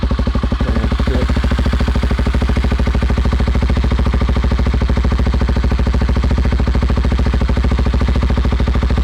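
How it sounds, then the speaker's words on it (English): A 2017 Kawasaki KLX250 EFI big bore 363cc motorcycle idles in neutral while warming up, a loud, steady, close thumping engine pulse with no talking. "we're in neutral. Let it warm up for a minute."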